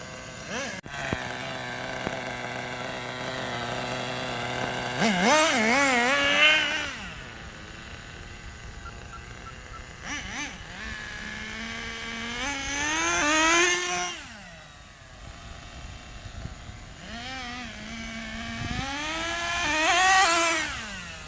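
A Schumacher Menace GTR RC car running, its small engine buzzing at idle and then screaming up in several rising bursts of acceleration, with revs falling back between runs.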